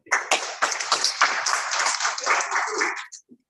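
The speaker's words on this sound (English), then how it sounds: "Give him a big round of applause for that" Audience at a Toastmasters club meeting breaks into a burst of applause, dense overlapping claps building quickly, sustained for about three seconds at close range, then tapering off with a few final scattered claps.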